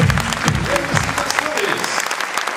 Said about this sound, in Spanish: Muy fuerte el aplauso para él.